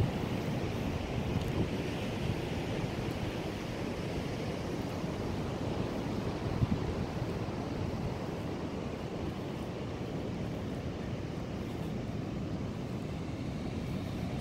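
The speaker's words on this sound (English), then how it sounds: "Look at those waves." Ocean surf rolls in at a beach, a steady wash of breaking waves mixed with wind buffeting the microphone, continuous and fairly loud throughout with no talking.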